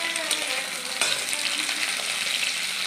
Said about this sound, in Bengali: তারপরে ফুলকপিটা ভাজতে দিয়েছি, একটু ফুলকপিটা লাল লাল হয়ে ভাজা হবে।